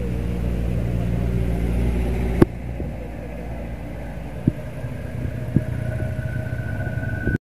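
A heavy multi-axle truck with many wheels, under army escort, rolls past the site of an accident on the road. It makes a loud, steady low rumble and engine drone throughout, with a few sharp knocks and clanks.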